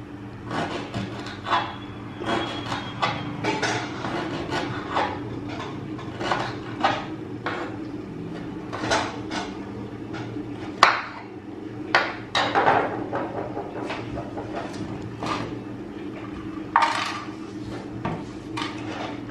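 Ingredients being chopped into tiny pieces with a knife on a board, a steady run of fairly loud, close, rapid taps repeating throughout with a low background hum.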